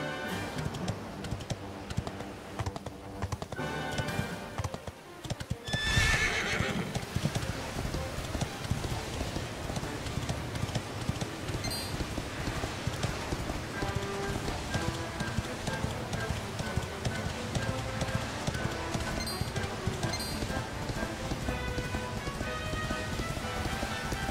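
A horse gallops in the video game Dragon Quest XI S, its rapid, steady hoofbeats clattering continuously over a hissing rain-like background, fairly quiet overall, with occasional speech.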